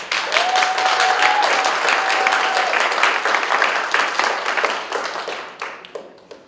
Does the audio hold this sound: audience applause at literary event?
yes